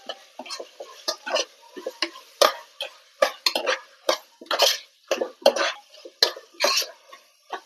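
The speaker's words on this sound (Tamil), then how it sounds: "இந்த ஸ்டேஜ்ல வந்து கொஞ்சம் இஞ்சி பூண்டு பேஸ்ட் வந்து கொஞ்சம் பச்சை வாசனை போற வரைக்கும் அப்படியே வதக்கிக்கலாம்." Sliced onion with ginger-garlic paste is sautéed for chicken biryani, a spatula scraping the pan in brisk, irregular strokes, each a sharp close stir over a faint frying hiss.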